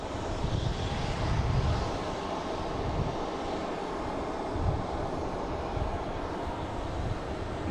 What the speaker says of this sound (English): that's the Philly flight that just took off